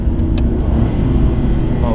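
Aston Martin Rapide S V12 engine downshifting during manual-mode driving, a loud continuous low rumble from inside the car with a brief blip near the start.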